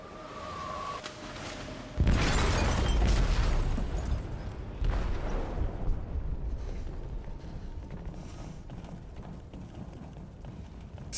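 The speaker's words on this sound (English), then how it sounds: "detonated an explosive in the hold" An explosive detonates in a ship's hold in Detroit: Become Human, a sudden heavy boom that rumbles and roars for a couple of seconds, then gives way to a long, rolling low rumble with scattered debris noise as it slowly fades.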